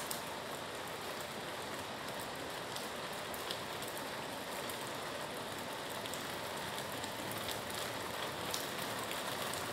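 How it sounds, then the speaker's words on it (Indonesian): Steady rain falls on a surface, a dense, even patter with no breaks, close and constant throughout. "Hujan guys."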